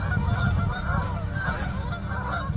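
A Canada goose honks loudly and repeatedly, close by, in harsh overlapping calls above a rumbling, noisy background while a bobcat attacks it.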